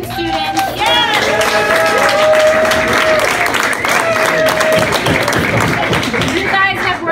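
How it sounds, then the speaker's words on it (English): Students at a school Thanksgiving meal get a long round of applause and cheering from a crowd, steady and loud throughout, with voices mixed into the clapping. "we really need to give a huge round of applause to all of our fantastic, amazing students"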